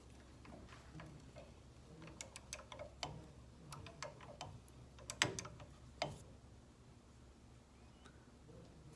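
A 9/16 socket ratchet snugs down bolts during assembly of a 1928 Chevy engine, giving quiet irregular clicking and ticking bursts close by over a low background hum.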